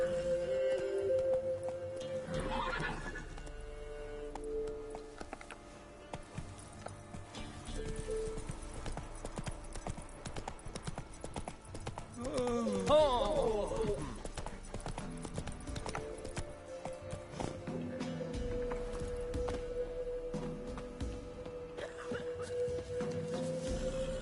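Roach the horse galloping in The Witcher III: Wild Hunt, steady rhythmic hoofbeats clip-clopping continuously over soft ambient game music, with a brief whinny midway and no talk.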